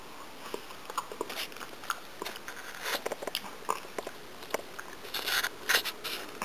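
Quiet crunchy bites and chewing of a Danish butter cookie, a series of crisp crackles close to the mic, growing denser toward the end.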